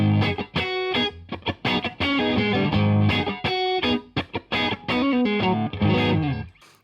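Electric guitar played through a Blues Crab overdrive pedal with compression, a light-gain rhythm tone of strummed chords and short riffs, sustained and even in level, with brief gaps between phrases and no talking.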